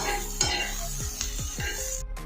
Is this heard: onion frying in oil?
yes